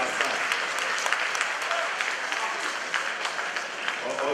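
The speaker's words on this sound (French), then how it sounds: "je suis applaudi par la salle." Hall audience at a political pre-congress gathering applauding a speaker, sustained even clapping from a large crowd throughout, heard at moderate distance.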